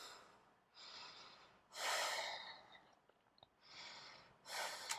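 Slow, deep breaths during a yoga flow, close and audible, with long inhales and exhales alternating in a steady rhythm and no talking.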